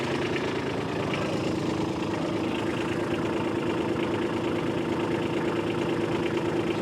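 A tractor engine idles steadily throughout, a low continuous rumble with a faint mechanical hum and no change in pitch.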